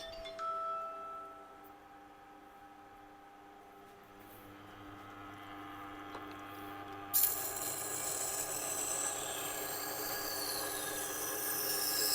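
A Global knife is ground on a resin-bonded diamond wheel, a steady mechanical hum and tonal whine that grows into a brighter hiss of grinding partway through, close and continuous with no talk.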